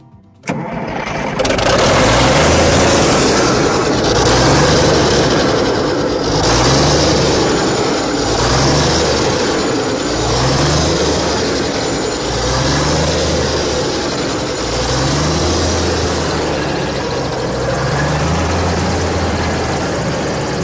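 A damaged engine on a machine under restoration cranks briefly and then starts, settling into a loud, steady running roar with a rhythmic pulsing throb for the rest of the time.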